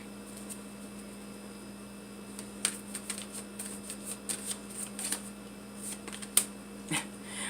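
Tarot cards being shuffled in repeated soft riffles and flicks, close by, over a steady low electrical hum, with no voices.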